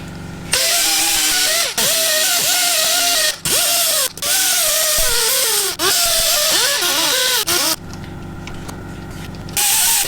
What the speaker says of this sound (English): with a small disc and a wire brush